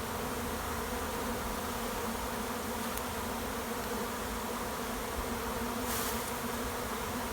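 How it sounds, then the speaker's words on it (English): Honeybees walking back into their hive from a shaker box fill the air with a steady, close, even buzzing hum that barely changes throughout. "the bees I shook into here are all marching back from the shaker box into the hive"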